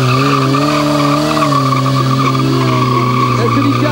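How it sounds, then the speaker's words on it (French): Car at a GTI tuning meeting in south-west France making a wheeling run: loud, continuous engine roar with squealing, skidding tyres, steady and close throughout with no talking. "Voilà la séance de wheeling."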